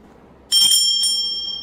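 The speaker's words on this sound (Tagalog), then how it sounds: "they exercise blessed bell" A bright bell rings once with a sharp strike, then a second lighter tap, its high metallic tone lingering and slowly fading.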